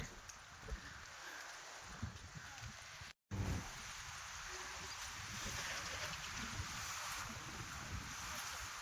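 Wind blows steadily outdoors in a forest, a broad, continuous rush with leafy rustling that cuts out for a split second, then returns just as strong and holds for the rest of the stretch.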